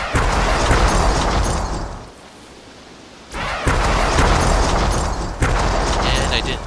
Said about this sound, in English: I'm going to have my bandit do a double shot on this hunter